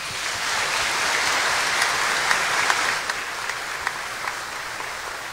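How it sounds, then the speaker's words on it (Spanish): Congregation at a Mass for Franciscan priest Padre Flavián Mucci breaks into sustained applause, a dense wash of many hands clapping that swells and then gradually thins, heard alone in a large reverberant church. "Te mereces este aplauso y mucho más"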